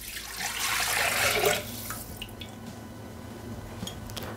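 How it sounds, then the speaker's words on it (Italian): Water poured into the steel bowl of a Thermomix TM6 kitchen machine, a loud splashing gush for about a second and a half, then trailing drips and quiet rattles with no talking. "Senza lavare il boccale, mettere l'acqua"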